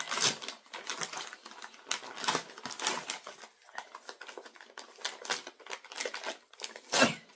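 Paper and card stock rustle and crinkle continuously at close range as a monthly stationery subscription box is unpacked, with dense irregular handling bursts and no speech.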